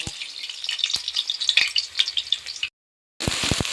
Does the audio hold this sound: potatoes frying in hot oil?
yes